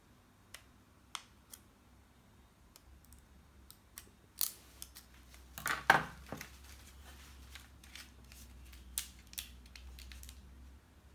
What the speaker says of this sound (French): je viens couper deux bandelettes de 2 mm en plein milieu des repères que j'ai mis